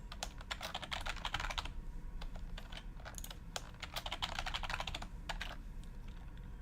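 A password is typed on a computer keyboard, giving rapid, light key clicks in uneven bursts at close range over a quiet background hum.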